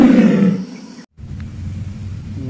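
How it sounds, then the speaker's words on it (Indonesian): A tiger gives a loud, close roar, rough and throaty, lasting about a second before a brief silence and a lower rumbling growl afterward. "Wow, lihat ini. Ini harimau teman-teman."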